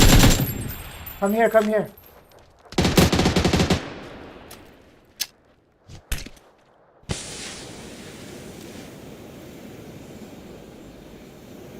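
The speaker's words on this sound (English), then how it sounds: "There's somebody shooting." Bursts of gunfire in PUBG, a loud rattling volley early and sharp scattered shots later, with a voice calling out briefly over them and engine hum beneath.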